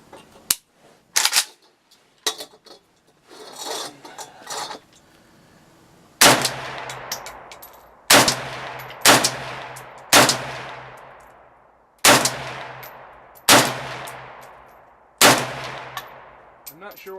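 Rifle shots fired at a steel plate on a 100-yard range, each sharp crack trailing into a ringing decay, heard as about eight spaced single shots after a few quieter handling sounds.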